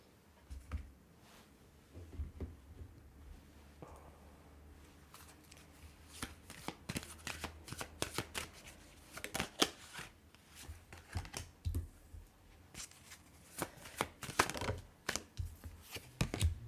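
Oracle cards shuffled and drawn for a tarot-style reading, a close series of crisp riffling and slapping bursts, quick and irregular, with handling rustles between and no talk.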